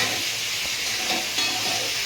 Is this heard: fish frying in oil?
yes